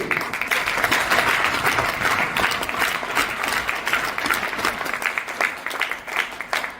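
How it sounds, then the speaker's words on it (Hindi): Loud, sustained applause rises from the audience at a motivational success seminar, dense clapping that holds strongly before thinning slightly toward the end. "एक जोरदार ताली का उत्तर ये भी।"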